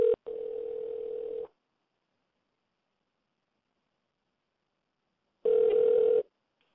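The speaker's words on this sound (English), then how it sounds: "Dial it up. See what happens." A telephone line rings out in two long steady electronic tones separated by a few seconds of silence, clear and close, with no talking.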